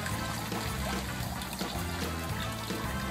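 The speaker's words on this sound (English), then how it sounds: "we're just going to pour the pond water right through the screen" Pond water poured through a screen to harvest spirulina, a steady, continuous splashing pour with trickling that runs evenly for the whole stretch at close range, without speech.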